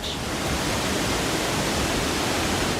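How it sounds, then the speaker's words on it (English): Pulhapanzak waterfall in Honduras roars as a steady, dense broadband rush of falling water, loud and continuous throughout with no pauses. "No two moments at a waterfall are ever the same. The water keeps moving, keeps changing."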